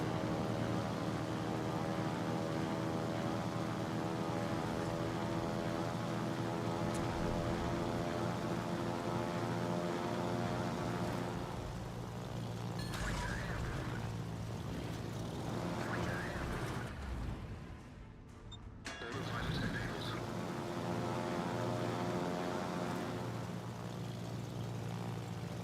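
Bomber aircraft engines in the World of Warships video game drone steadily at a moderate level. The sound briefly dips near the end, then the same propeller hum returns.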